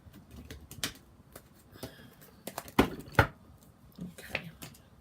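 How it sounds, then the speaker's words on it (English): A deck of tarot cards being cut and handled, with a series of short, dry card taps and slaps, two of them louder, in a quiet room. "Oh, let's cut the deck."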